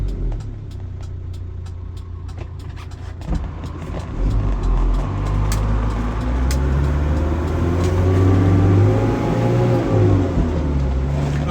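A lifted 1994 Nissan Atlas 4x4 truck with a 5-speed gearbox and 31-inch all-terrain tires pulls out onto a main road, its engine note rising steadily as it accelerates, loud and close with no talking.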